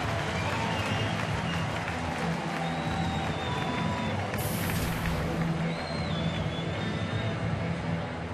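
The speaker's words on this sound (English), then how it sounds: "And Avila gets a nice round of applause as he steps in." Baseball stadium crowd at a Tigers home game applauds as the batter steps in, a broad distant wash of clapping and cheering with scattered whistles, heard through continuous crowd noise.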